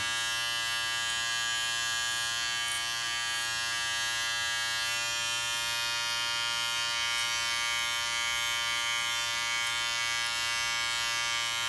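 A steady electric clipper buzz runs without pause, close and continuous, with no voices.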